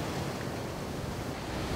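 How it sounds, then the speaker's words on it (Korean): Ocean swell and waves roll at Udo island off Jeju at a rocky fishing spot in rising seas and a strong headwind, a steady, dense roar of surf and wind with no pauses and no voices. "너울은 점점 높아지고 있고"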